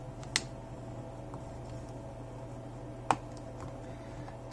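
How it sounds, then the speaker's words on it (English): Plastic clips on a Samsung Galaxy A42 phone back snap loose as it is pried off, two sharp close clicks a few seconds apart over a faint steady hum. "You can hear it clicking."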